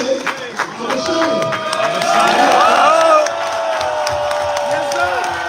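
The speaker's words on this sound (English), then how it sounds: "give a round of applause to this brother" A church congregation at a Passover gathering cheers and whoops loudly, voices rising together with scattered clapping before easing to a lower murmur.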